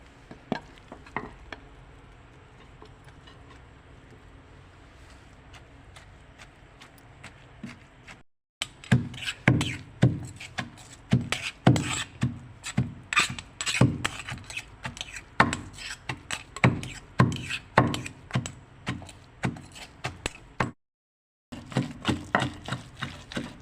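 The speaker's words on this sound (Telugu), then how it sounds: "ఏ పచ్చడైనా సరే రోట్లో నూరుకుంటేనే ఆ రుచి అనేది బాగుంటుంది ఇలా మెత్తగా దంచుకోవాలి" Onion pickle paste is pounded in a stone mortar, a rapid series of sharp, close thuds and knocks that starts quietly, then turns loud and rhythmic, with two brief silent gaps.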